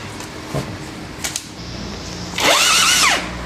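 A power drill drives screws on a Honda Forza 250 motorcycle, a close, loud whirring whine that rises and falls in one short burst after faint handling noises.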